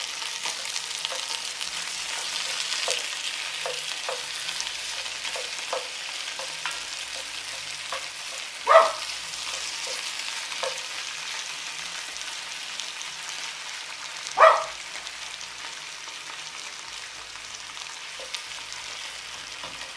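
Beef stew meat browning in a pot, a steady soft sizzle with scattered pops and two sharper clanks of a utensil against the pan, continuing alone without speech.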